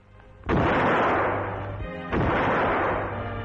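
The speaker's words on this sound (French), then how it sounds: "Sur les quais de la Seine, 21 coups de canon saluent l'acte solennel" Cannon fire from a 21-gun salute on the banks of the Seine at a 1959 state ceremony in Paris, two heavy booms about a second and a half apart, each rolling out into a long echoing rumble over low crowd noise.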